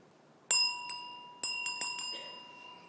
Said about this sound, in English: I expect many of you know about chime bars.